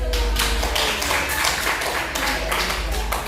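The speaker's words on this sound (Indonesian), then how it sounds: "Applause. Ayo, tepuk tangan." Students clapping in a classroom: a loud, continuous patter of hands that fills the room, with voices mixed in.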